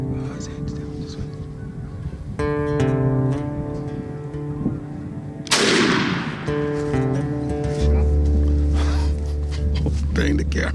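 A single loud, sharp shotgun blast goes off during a turkey hunt, with hushed whispering before it and excited talking afterward.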